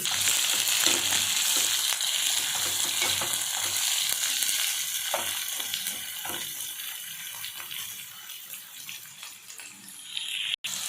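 Sliced onions fry in hot oil in a home kitchen pan, a steady dense sizzle that runs throughout, loud at first and easing slightly, with occasional stirring scrapes.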